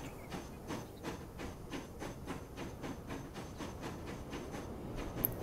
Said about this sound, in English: Let's just watch this train for a moment.